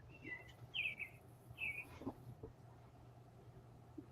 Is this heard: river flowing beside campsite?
no